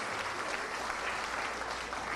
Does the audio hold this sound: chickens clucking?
no